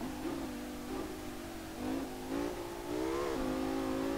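Audi R8 with a V10 engine revving and shifting through gears on the Mount Akina mountain pass in Assetto Corsa, a steady loud drone climbing and dropping in pitch as the throttle rises and eases.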